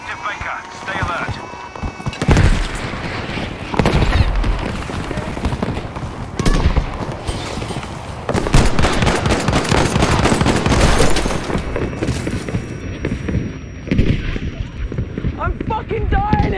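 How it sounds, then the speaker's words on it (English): Battlefield 5 Grand Operations battle in the Fall of Norway, with a grenade blast among dense gunfire bursts and sharp cracks, loud and chaotic throughout, mixed with shouting voices. "Grenade, take that!"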